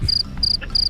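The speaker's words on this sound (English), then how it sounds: "by counting chirps. cricket chirps." Crickets chirp in repeated high, thin trills, three evenly spaced bursts over a low rumbling background, fairly close and clear.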